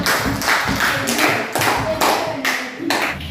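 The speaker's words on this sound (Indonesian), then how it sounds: "tepuk tangan dulu untuk kelompok" Students in a classroom clap for a presenting group, several strong, rhythmic claps in distinct pulses, close and loud, with faint voices underneath.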